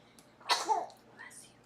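A single sharp sneeze during a Shabbat service, close and moderately loud, followed by a brief faint sound afterward.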